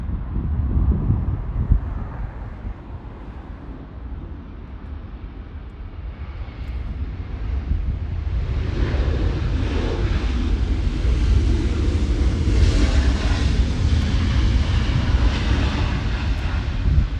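An airliner takes off at Los Angeles airport, its engines roaring steadily from start to finish and swelling louder and brighter midway as thrust builds, carried with some wind noise and no talking.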